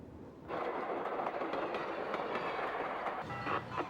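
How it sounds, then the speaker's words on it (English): Alaska Railroad train rolling north toward Denali, a steady rumbling wash of wheels on track with faint clickety-clack, starting abruptly after a brief quiet moment and holding loud and close throughout, no voices. "The Fairbanks train continues north toward Denali"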